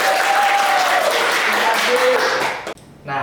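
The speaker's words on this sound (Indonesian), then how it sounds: "Boleh tepuk tangannya terlebih dahulu." An audience at a live accounting podcast event claps steadily, a dense continuous burst of applause that cuts off abruptly near the end, followed by a brief quieter tail.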